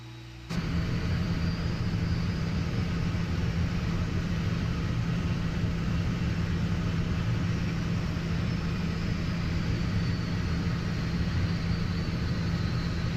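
Steady low drone of an airliner engine in an A320 flight simulator as a plane comes in toward runway 33, a constant loud hum with no talk.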